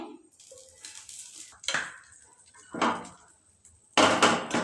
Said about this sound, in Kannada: ಕಡಾಯಿ ಬಿಸಿ ಆದ ಕೂಡಲೇ ನಾವು ಇದಕ್ಕೆ ಒಂದು 4 ಚಮಚದಷ್ಟು ಬಟರ್ ಹಾಕ್ತಾಯಿದ್ದೀನಿ